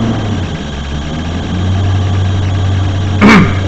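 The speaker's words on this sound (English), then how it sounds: "hear me over the engine of the truck here" Low, steady rumble of a truck engine idling close by on a chilly day, with a brief voice near the end.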